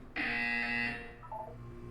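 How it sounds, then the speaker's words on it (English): A buzzer sounds in the video game Portal, one loud, sustained electronic tone lasting under a second, then fading into a short, quieter tonal tail, with no talking over it. "You will hear a buzzer. When you hear the buzzer, look up at the ceiling."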